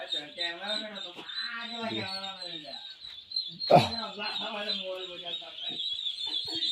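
A crowd of young ducklings keeps up a steady, high peeping chatter close by, broken once by a sharp knock.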